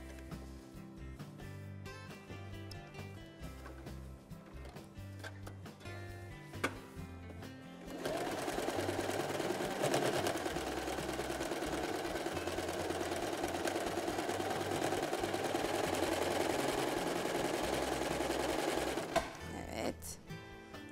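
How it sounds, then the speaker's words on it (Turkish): A sewing machine stitching fabric runs in a fast, steady mechanical whir for about eleven seconds, starting after a stretch of talk with background music and stopping abruptly near the end. "Makine olunca da nasıl tıkır tıkır hemen dikiliyor."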